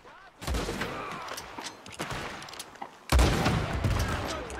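Gunfire in Red Dead Redemption, several loud close shots and rattling bursts, the heaviest blast near the end.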